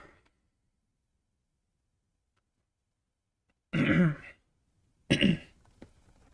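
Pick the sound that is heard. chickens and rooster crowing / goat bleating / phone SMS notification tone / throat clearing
throat clearing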